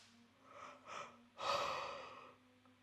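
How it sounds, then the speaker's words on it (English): A woman yawns during a yoga stretch: a few soft breaths, then a long, open, breathy yawn swells up and slowly fades, quiet and close in a calm room with a faint background hum. "No idea why that makes me yawn."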